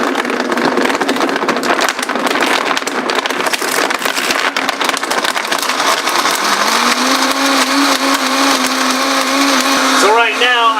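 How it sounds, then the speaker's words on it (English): A kitchen blender grinds half a rabbit, bones and all, roaring loudly and steadily for about eleven seconds. The motor pitch climbs partway through, and the grinding grows rougher toward the end. "So right now I'm completely pulverizing this entire half of bunny, bones and all"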